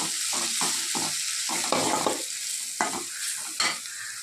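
Chili powder and coriander powder sizzle steadily in oil in a pan for mutton curry while a utensil scrapes and stirs in short, repeated strokes, close and fairly loud.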